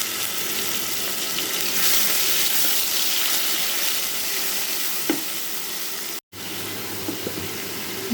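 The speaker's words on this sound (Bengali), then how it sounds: "আমি একটু পেঁয়াজটা এখন নেড়ে একটু লাল লাল করে নেব" Onion frying loudly in a pan with ginger and garlic paste for a mankochu bhuna, a continuous close sizzle with a few faint stirring scrapes and a brief dropout near the end.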